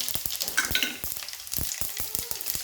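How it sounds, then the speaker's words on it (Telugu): Cumin seeds and dried red chillies crackle and sizzle in hot oil in a kadai up close, a steady hiss punctuated by frequent sharp pops and spits. "తాలింపు చేస్తున్నాను ఆయిల్ పోస్తున్న కళాయిలో తాలింపు గింజలు జీలకర్ర ఎండుమిర్చి"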